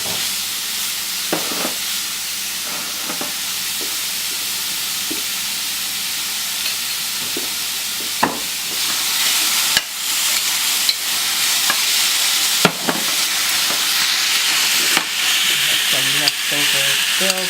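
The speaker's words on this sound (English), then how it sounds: "You can hear them sizzling." Food for chili browns in a pan, giving a steady loud sizzle and frying hiss throughout, with occasional sharp clicks and scrapes of stirring.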